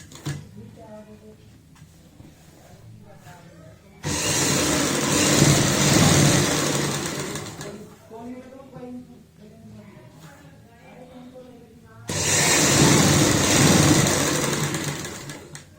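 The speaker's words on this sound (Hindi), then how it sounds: "ये हमने दूसरी पट्टी भी कंप्लीट कर ली है सिलाई लगाते हुए" Sewing machine stitching a fabric strip for a coat-collar kurti neck, two loud steady runs of several seconds each, with someone talking softly between them.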